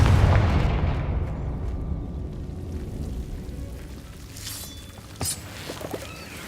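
A Confringo fire spell bursts in Hogwarts Legacy, a loud rumbling explosion at the start that rolls and fades over several seconds, with a few sharper magical crackles and pops later on.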